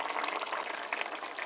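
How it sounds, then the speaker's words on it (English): Fish stew of butterfish bubbling at a boil in a pot, a steady close hiss of simmering liquid with soft popping bubbles, continuous and even, with no talking. "You let it boil for a few minutes,"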